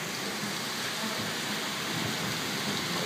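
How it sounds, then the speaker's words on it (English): Steady heavy rain falling during a thunderstorm, a dense continuous hiss filling the whole clip at an even loudness, with no voices. "we have rain."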